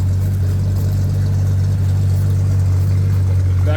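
A 1941 Dodge WC-6 weapons carrier truck engine idles steadily and smoothly up close, a deep constant rumble with no variation for the whole stretch.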